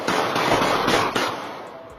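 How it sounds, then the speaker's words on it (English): Gunfire caught by a doorbell camera in New Orleans sounds as a rapid cluster of sharp, distant pops in quick succession, harsh and compressed, with no talk. "These are the gunshots and screams of a murder victim that Naheem Simon's doorbell camera caught"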